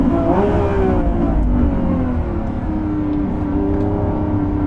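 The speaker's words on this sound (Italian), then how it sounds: "l'accelerazione è pazzesca, sono in un attimo a 200 all'ora" A Lamborghini Revuelto V12 pulls hard under full acceleration, its engine note rising in steady sweeps as the gears climb, loud and close from inside the car with continuous road and wind roar beneath.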